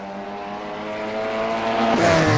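An Audi RS3 touring car races in iRacing, its engine note droning and climbing steadily in pitch as it accelerates, growing louder toward the end with a burst of rougher noise.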